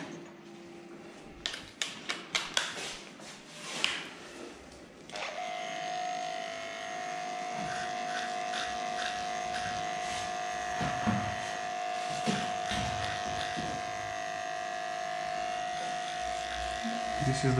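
Electric dog grooming clippers with a 10 blade shave a badly matted tail, a steady high-pitched motor buzz running continuously after a few sharp clicks and bumps at the start, close and fairly quiet, with occasional handling knocks.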